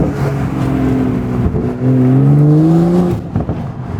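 A car engine revs up and down from inside the car with a window open on a snowy day, a smooth rising whine that climbs, holds, then drops off, moderately loud without harshness.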